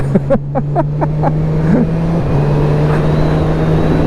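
A Honda CB1000R motorcycle engine hums at a steady drone while short shifting, with a quick burst of rapid pops early on and a brief pitch dip as a gear changes, loud and close with rushing wind noise.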